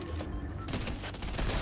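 Rapid gunfire from Fortnite gameplay, a dense burst of close shots with faint voices underneath.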